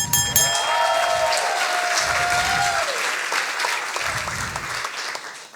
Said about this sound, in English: Big applause for Anna.